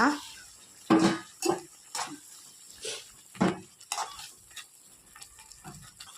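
Fried okra is tipped into a pan of gojju and stirred, giving intermittent scraping and clattering of a utensil against the pan with a soft sizzle underneath, close and moderately loud.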